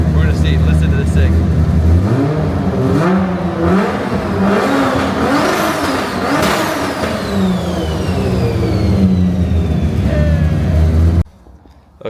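A Mazda RX-7 FD sports car engine revs loudly and up close, rising and falling through repeated throttle blips with a continuous strong roar before cutting off abruptly near the end.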